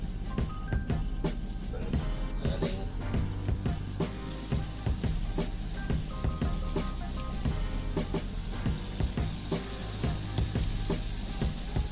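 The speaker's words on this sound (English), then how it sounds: "you fry it for a little bit, and it's gonna bake for the rest of the way" Chicken cutlets for Parmesan chicken fry in a pan with a dense, continuous crackling sizzle, close and fairly loud, with busy popping spatter throughout and no talk.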